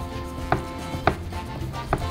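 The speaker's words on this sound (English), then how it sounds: "you just slowly slice down the center" Knife cutting down through a chicken breast to butterfly it, three distinct close chops against a board at a slow, even pace, with no talk.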